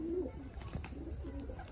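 Soft pigeon cooing repeats a few times close by over a light background rustle, as the pigeons bathe in a water bowl.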